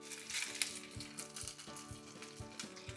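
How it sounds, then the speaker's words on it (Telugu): Vegetable pieces frying in ghee in a pan, giving a steady, close sizzle with crackling pops throughout and no one speaking. "రెండో వైపు వేగుతున్నాయి"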